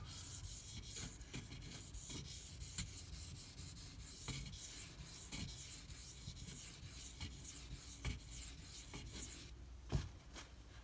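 A Spyderco Delica SG2 knife blade scrapes in repeated rasping strokes across a sharpening stone, quiet and close, with a steady rubbing rhythm and no talk.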